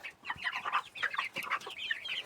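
Small Leghorn chickens, two hens and one rooster, cluck and chirp in a busy, continuous stream of close, overlapping calls.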